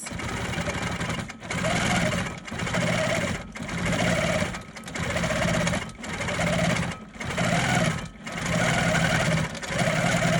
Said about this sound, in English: We've quilted our entire stocking piece.